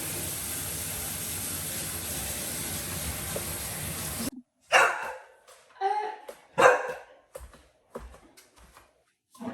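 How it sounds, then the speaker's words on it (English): A dog barks several times in short separate bursts at moderate distance, after a steady hiss of running water cuts off. "Apologies if you can hear Chops bark in the background"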